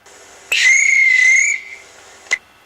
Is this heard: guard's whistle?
yes